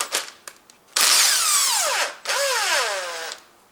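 A power tool drives a 10mm socket to remove a nut on a 2006–2015 Honda Civic, with a few short clicks first, then two loud, sustained whirring bursts with a falling pitch, close by.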